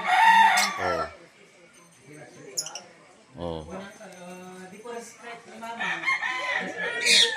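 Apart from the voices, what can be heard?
chickens and roosters crowing at a game farm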